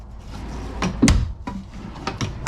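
Several wooden knocks and slides come from drawers being opened and shut inside a 2025 Imagine XLS 22MLE travel trailer, irregular bumps and thuds at close range with quiet gaps between them.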